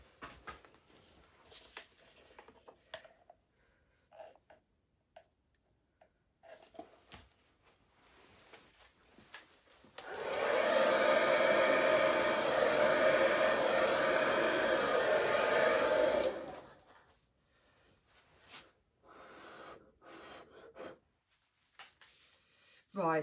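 A hair dryer blows across wet paint on a fluid art canvas, a steady loud roar lasting about six seconds between quieter stretches of handling noise.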